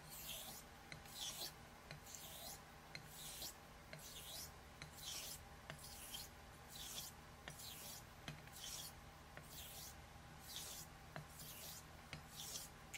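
A straight razor stroked back and forth across a 6.5-foot hone wheel, giving a steady rhythm of about a dozen loud rasping, scraping passes with brief pauses between them and no talking.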